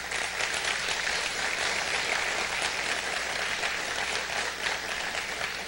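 Church congregation applauding loudly and steadily, a dense continuous wash of clapping that fills the whole stretch without pause.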